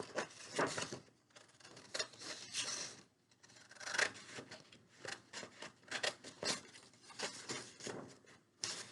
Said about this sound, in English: And then I'm going to cut it out with my scissors.